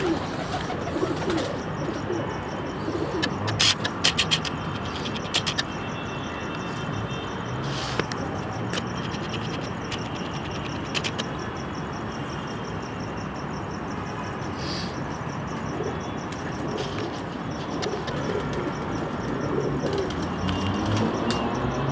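Ferozpuri pigeons coo in a loft, their soft calls running continuously under a dense, steady wash of background noise with faint passing traffic.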